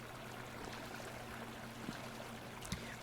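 Flowing water in the Vintage Story video game streams and trickles steadily, a soft continuous wash with a couple of faint clicks.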